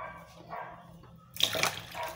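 Water is poured into a cooking pot over garlic and bell pepper: quiet handling at first, then a sudden splashing pour near the end, close to the microphone.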